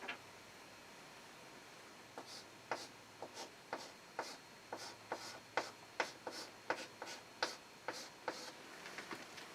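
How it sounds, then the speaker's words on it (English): Pen or marker writing on a surface while working a math problem: a faint, close series of short scratchy strokes and taps in an irregular rhythm, quickening toward the end. "so I'm going to write it in a bad place"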